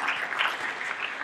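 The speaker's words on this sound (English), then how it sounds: "So another round of applause." Brief applause from a luncheon crowd at a Virginia philanthropy gathering, a steady, even patter of many hands clapping for just over a second.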